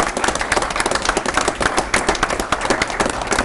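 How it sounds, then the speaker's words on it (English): A board meeting audience gives a round of applause for a man about to receive a proclamation, with loud, dense, steady clapping from many hands filling the room without pause. "I think we deserve to give him a nice round of applause."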